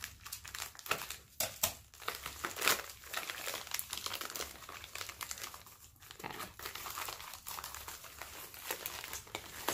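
Cheap children's scissors cut open a mailed package box, giving a continuous close crinkling, snipping and tearing of cardboard and packing material, with irregular bursts and pauses and no talking.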